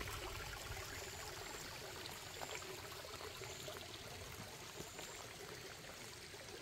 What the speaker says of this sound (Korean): 바로 옆에는 줄줄줄 낡은 계곡 우물이 이렇게 흐르고 있고요